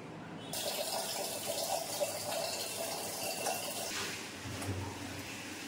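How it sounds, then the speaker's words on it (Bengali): Tea things being washed under a running tap: a steady, close rush of water pours continuously with slight shifts in its splash, and no voices. "আগে চাটা ধুয়ে নিচ্ছি"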